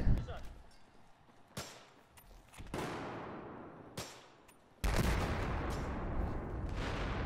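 Gunfire in a multiplayer shooter video game: several sharp single shots and bursts ring out close, with an ongoing rumble of battle and a player's voice in between.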